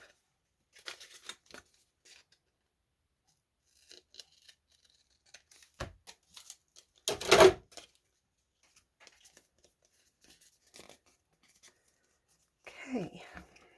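Scissors cut the bottom off a recycled book cover being prepared for a junk journal, with scattered soft snips and paper rustles, one louder crunching cut in the middle, and quiet handling noises between.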